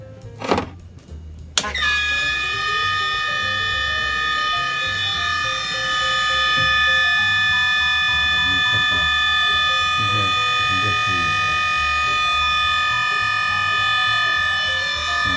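A 1983 Lotus Esprit Turbo fuel distributor runs a one-minute full-throttle flow test, a steady loud whine with sustained high tones after a brief start-up, joined by a speaking voice.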